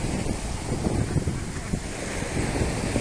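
Sea waves wash steadily onto the shore while gusty wind roars across the microphone in stormy weather with light rain, small boats nearby. The surf and wind form a constant, loud, close wash with no talking.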